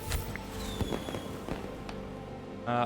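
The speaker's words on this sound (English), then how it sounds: "Fireworks. Cool." In the video game The King is Watching, fireworks go off as a quick scatter of small pops and crackles over a busy game soundtrack.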